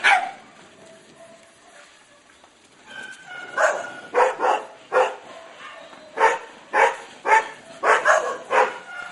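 Many dogs bark in rescue kennels in the Philippines, a long run of sharp, repeated barks that builds from a quieter start into a loud, fairly close chorus.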